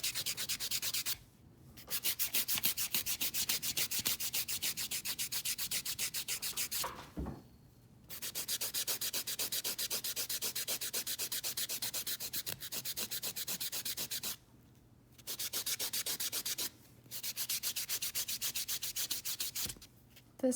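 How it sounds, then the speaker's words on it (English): A dipped acrylic fingernail is buffed with fast, even back-and-forth rubbing strokes, close and fairly soft, broken by a few brief pauses. "Okay, so there's the buffing."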